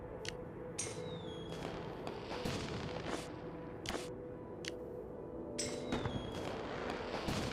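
Fireworks in Whiteout Survival over a feast hall: repeated sharp crackling bursts and pops, some with rising whistles, spaced irregularly over a steady rumbling background.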